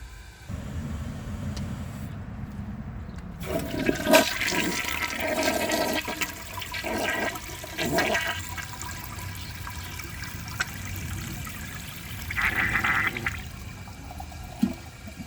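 A 1985 Kilgore Aladdin toilet flushes with a loud rushing surge and gurgle, then the tank refills with a steady hiss and trickle, rising and falling in bursts with a final gush near the end.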